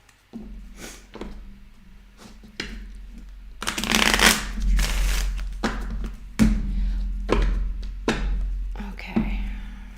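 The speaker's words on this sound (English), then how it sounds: "Okay, you're seeing I'm shuffling." Tarot cards shuffled by hand in a series of crisp riffles and soft slides, close and loud, with a quiet murmur of talk underneath.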